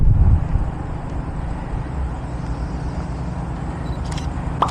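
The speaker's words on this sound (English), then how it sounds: "I hear some cars rolling." Cars rolling past on a nearby road, a steady low traffic rumble throughout with a slightly heavier pass at the start and faint higher clicks near the end.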